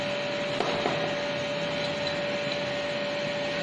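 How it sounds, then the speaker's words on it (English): A homemade fan-powered vacuum cleaner runs steadily, sucking up thermocol pieces with a constant whirring hum and a sharp motor tone, plus a couple of faint light clicks near the start. "So this is how your vacuum cleaner will work."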